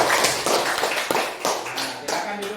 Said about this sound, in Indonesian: tepuk tangan dulu untuk kelompok pandai